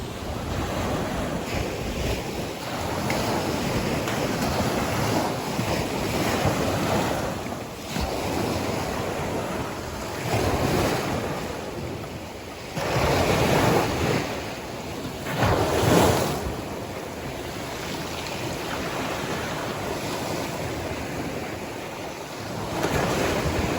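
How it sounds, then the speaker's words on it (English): Ocean surf rolls steadily onto a sandy beach, waves breaking and washing in repeated swells under constant gusting wind that buffets the microphone, with no voices. "share with you some of the sea and the sand and the soothing sounds that are just so lovely"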